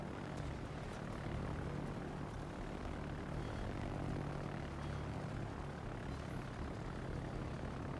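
Enemy carrier planes in World of Warships drone overhead with a dense, steady propeller-engine roar that fills the whole stretch without pause, at moderate loudness and with no talk.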